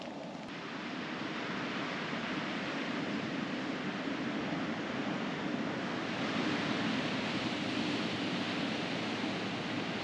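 Surf washing steadily onto an Albanian beach, a continuous broadband rush of waves with wind noise, close and fairly even, with no voices.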